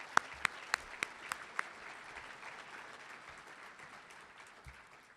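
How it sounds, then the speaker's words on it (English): Audience applause at a chamber of commerce awards dinner, a few sharp loud claps at the start giving way to a steady, softer wash of clapping that slowly fades over about five seconds. "so big round of applause for him."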